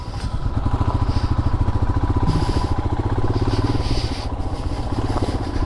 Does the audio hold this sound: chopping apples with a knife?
no